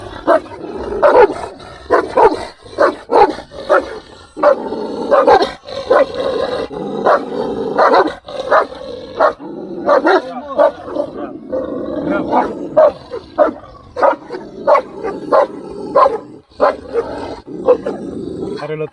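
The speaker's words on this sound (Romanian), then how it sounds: "Are lătrătură mai puternică la." Large Kangal dogs bark repeatedly in loud, sharp bursts throughout, with someone talking excitedly between and over the barks.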